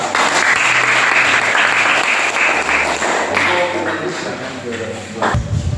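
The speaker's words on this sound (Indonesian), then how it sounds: "Mari kita berikan aplaus buat mereka." A classroom of students gives steady, dense applause for a group that has just presented, with the clapping starting at once and fading slightly at the end.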